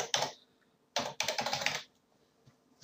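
Computer keyboard typing, close and crisp: a short burst of keystrokes, a pause, then a quicker run of clicks before trailing off into quiet.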